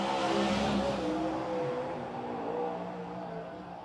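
A sprint car on a qualifying lap at Silver Dollar Speedway, a dirt oval, gives a continuous broad engine roar that stays loud and slowly fades as the car moves away.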